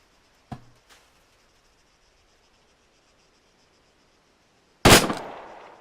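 Two gunshots from personal weapons training, fired prone: a sharp nearby crack, a faint second report soon after, then a long quiet pause before a loud shot with a ringing decay.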